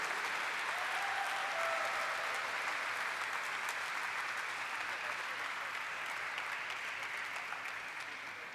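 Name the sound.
audience applause at listing ceremony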